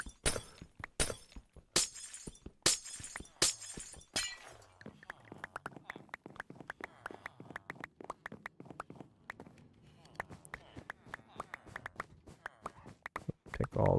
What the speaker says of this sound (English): just hearing a bunch of broken glass is probably not the greatest thing to listen to